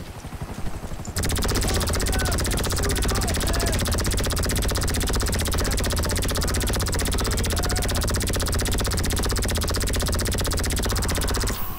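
Continuous loud whirring helicopter rotor in Grand Theft Auto V Online with rapid bursts of machine-gun fire layered on top, dense and steady throughout, with a brief softer noise at the start.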